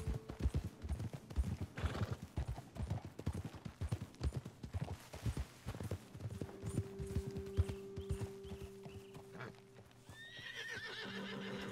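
In the video game Red Dead Redemption 2, horse hooves clip-clop in a quick, steady rhythm with a horse neighing, then the hoofbeats fade and a soft ambient tone with chirping birds takes over.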